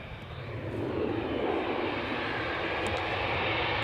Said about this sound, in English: gear is going up, so that seems to be a regular departure